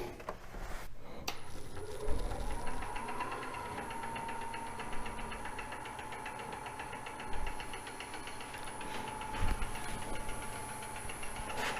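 A wood lathe turning a bowl blank at about 400 RPM runs with a steady mechanical hum and whine. Occasional knocks and clunks stand out above the motor, with no speech.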